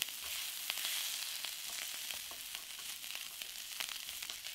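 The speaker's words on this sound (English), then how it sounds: "While you are mixing it, just press them little bit." Punjabi samosa filling mixed and cooked in a pan, giving a continuous close hiss of frying broken by light, irregular taps and scrapes from the spoon.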